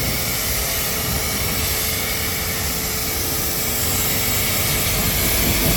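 A strong water spray rinses a car wheel, a steady, loud hiss that holds constant from start to finish without any voices.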